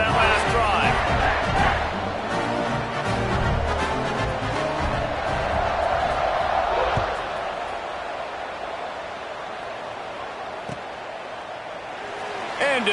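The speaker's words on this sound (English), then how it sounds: "this crowd is feeling themselves after that last drive" A college football stadium crowd roars before a TCU kickoff, a broad, continuous swell of cheering that fades slightly toward the end, with a commentator's voice over it.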